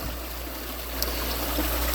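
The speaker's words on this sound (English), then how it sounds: "Like that's raw water right there, that little trickle." A small trickle of raw well water running into the overflow of a saltwater waterfall aquarium, a soft continuous splashing over a steady low hum.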